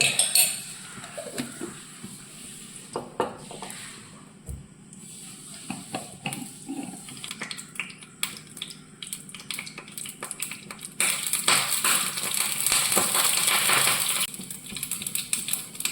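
Mustard seeds popping and crackling in hot coconut oil in a pan, a dense run of sharp irregular pops and spatters up close that swell into a loud steady sizzle toward the end.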